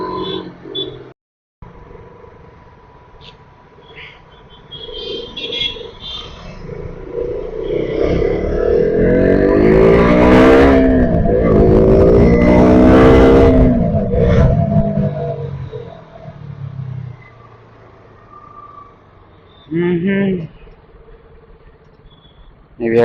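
A KTM RC 200 motorcycle rides through city traffic, its engine rising to a loud, sustained roar in the middle before easing off, with surrounding traffic noise and brief passing sounds near the end.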